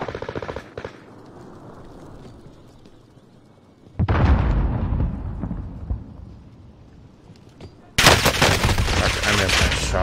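Heavy automatic gunfire in a battle royale match, loud sustained bursts of rapid shots that cut in abruptly and rattle close by, with game ambience between them.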